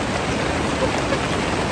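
Steady, dense rain hisses continuously and loudly along the Ibo River, a constant wash of falling drops with no pauses.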